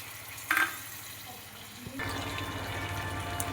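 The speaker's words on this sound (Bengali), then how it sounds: "আরও 1 বাটি মতন জল দিয়ে দিলাম।" Water poured from a bowl into a pan of chicken curry cooking on the stove, a steady close splashing pour under a low background hum.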